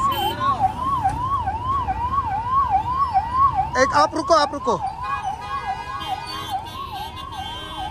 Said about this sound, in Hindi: ये देखिए एम्बुलेंस फंसी हुई है यहाँ पर, आप देख सकते हो।